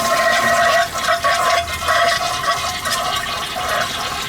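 An old toilet flushes to drain its tank before removal, a loud, steady rush of swirling water that runs close and alone for several seconds.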